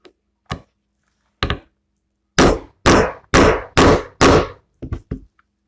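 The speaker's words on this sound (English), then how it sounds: "now the only thing left to do is to hammer those so they'll stay together permanently" A hammer strikes metal grommets on a pillowcase: a couple of light taps, then five heavy evenly spaced blows, ending with a few quick lighter taps. Close and loud.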